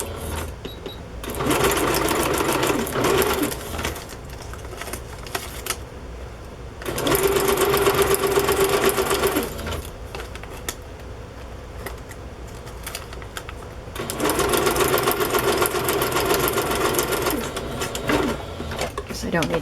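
A sewing machine stitches paper for a Christmas journal. Three long, steady runs of stitching are separated by quieter pauses, with a person talking during the breaks.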